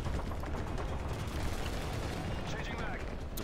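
Gunfire from a Pave Low helicopter in Modern Warfare 3 Spec Ops forms a steady, dense roar of rapid shots and blasts throughout, with voices talking over it.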